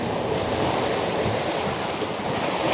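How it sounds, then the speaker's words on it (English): Ocean surf rushing onto a shore at a seascape, a continuous loud wash of breaking water and spray with no voices. "wait for a larger wave to come in and capture that as it comes splashing in"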